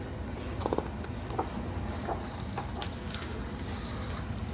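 Free-range chickens clucking faintly amid steady outdoor background noise, with a few short, scattered clucks and chirps at a distance.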